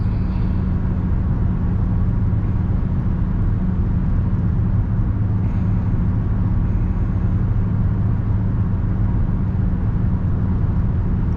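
A car with a slightly raised ride height drives along a fairly flat road, producing a loud, steady low rumble of engine and road noise throughout, with no talking.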